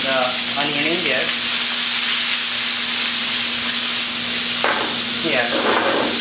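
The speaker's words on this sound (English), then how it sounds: "We're gonna add around like a 1 tablespoon of the cumin seed, and we're gonna add straight away the onion in there." Cumin seeds and chopped onion hit very hot oil for an onion tomato masala curry base, producing a loud, steady, close frying sizzle with hissing steam that runs unbroken throughout, a low hum beneath it.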